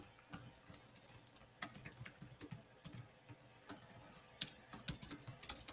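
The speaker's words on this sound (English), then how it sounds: "Typing very poorly today." Fast, uneven clicking of keys on a computer keyboard, close and fairly quiet, with short bursts and brief pauses and no voices.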